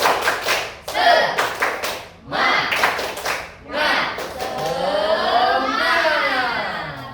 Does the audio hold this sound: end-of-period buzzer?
no